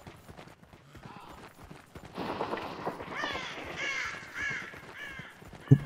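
Crows cawing in the Hunt: Showdown video game, several harsh calls layered over ambient game sound and clopping, rising in the second half, with a loud thump at the end.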